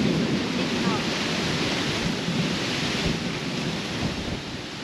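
Heavy rain with thunder: a dense, steady roar of downpour fills the whole stretch, loud and close, with low rumbling underneath and no clear talk.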